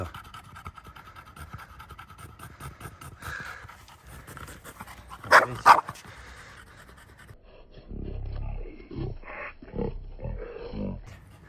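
A dog pants in short, rapid breaths, quiet at first, then louder and closer toward the end, with a brief scratchy noise midway.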